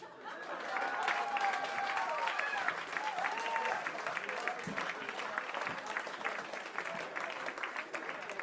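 Comedy-club audience applause for comedian Casey Crawford at a comedy festival, a sustained crowd clapping with cheers and some laughter mixed in, while a voice talks over it for most of the stretch.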